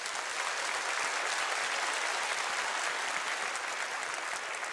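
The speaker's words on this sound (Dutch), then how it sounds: "Mag ik nog een heel groot applaus voor Pedro Peters hier." Steady, dense applause from a live audience at the Aardig Onderweg Awards 2013 ceremony, a continuous wash of many hands clapping at even loudness throughout, with no voice on top.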